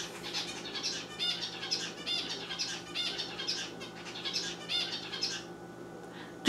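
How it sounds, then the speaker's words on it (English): A pet bird gives a series of fairly faint, rapid squawks and chirps in repeated bursts indoors, with no talking. "Bird."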